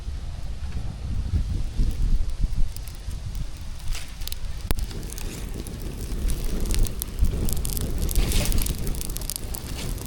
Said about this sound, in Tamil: பாருங்க அடுப்பு எப்படி எரியுது பாருங்கள்